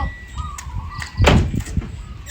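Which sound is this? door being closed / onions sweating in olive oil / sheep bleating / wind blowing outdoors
door being closed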